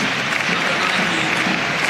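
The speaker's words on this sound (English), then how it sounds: "listen to the ovation he gets from the home crowd" Loud, sustained applause and cheering from a home crowd in a football stadium at a Europa League match, a dense unbroken roar of clapping across the whole stretch.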